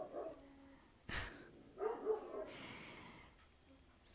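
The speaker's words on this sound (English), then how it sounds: "the birds are screeching, and so the Labrador is barking" A Labrador barking a few times indoors, sharp separate yaps spread across a few seconds, fairly faint and somewhat distant, with birds screeching in the background.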